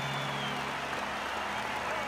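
A stadium crowd of 50,000 cheering and applauding, a dense, even wash of clapping and roaring that holds steady throughout.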